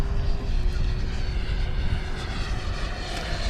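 A Banana Hobby Aerofoam 105mm ducted-fan RC jet on 12s power makes a slow pass, its steady whooshing turbine-like roar holding loud and continuous throughout.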